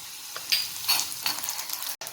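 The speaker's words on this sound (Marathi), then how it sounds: "ते गरम तेल झालं की त्याच्यात डाळ टाकायचं आणि असं डाळ थोडंसं झालं की त्यात हिरव्या मिरच्या घालायचं" Dal and green chillies fry in hot oil, a close, crackling sizzle that swells in short bursts with light stirring and then cuts off abruptly at the end.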